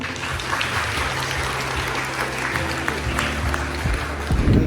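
Audience applause at a charity concert in a science lyceum, a steady wash of many hands clapping at moderate volume, with a low hum beneath and a brief louder rumble near the end.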